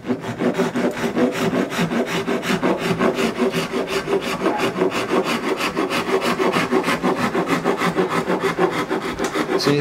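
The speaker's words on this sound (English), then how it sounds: "These are points in which I will rasp multiple facets to." A hand rasp carves facets into a wooden guitar neck in quick, even strokes, a close and continuous rhythmic scraping that repeats many times with no talk.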